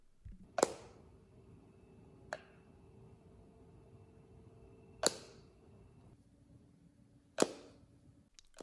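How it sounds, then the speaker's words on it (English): Three sharp clicks at irregular intervals as a MagSafe battery pack snaps magnetically onto a phone, crisp and close, with a softer tap between the first two and low background hum. "When you connect the battery pack to the phone, you should hear a clicking sound."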